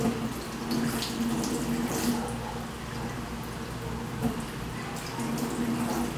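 A kitchen sink tap runs steadily at a dish-washing session, a continuous broadband rush of water that fills the scene, with faint voices and small clatters of dishes underneath.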